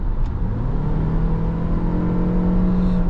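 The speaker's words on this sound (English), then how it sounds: "The engine itself is a very, very loud under acceleration." A 2026 Toyota RAV4 engine revs steadily under hard acceleration, a loud, sustained rising drone heard up close from inside the car, with no talking.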